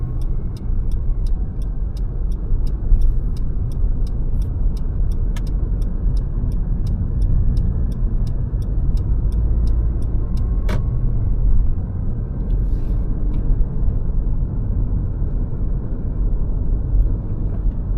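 A car engine rumbles steadily as the vehicle pulls out of a parking space and drives off along a street in Port Macquarie, with a faint repeated ticking like an indicator over the road noise.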